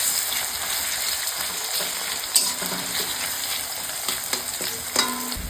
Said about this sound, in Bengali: এবার পেঁয়াজগুলোকে বেশ খানিকক্ষণ ধরে ভাজা ভাজা করে নিব।